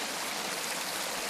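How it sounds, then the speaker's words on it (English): A small mountain stream flows steadily on a hillside hike, a continuous close broadband rush and trickle of water with no talk. "I've happened across this little stream here."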